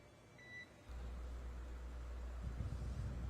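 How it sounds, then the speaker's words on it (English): A single short electronic radio communication beep from a SpaceX Crew Dragon launch sounds faintly, then a low steady hum and static-like hiss take over. "And you'll be hearing those very characteristic beeps."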